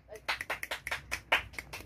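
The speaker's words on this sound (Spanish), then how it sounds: "¡Un aplauso," Sharp, uneven claps in quick bursts mixed with excited voices at a circus, close by and moderately loud.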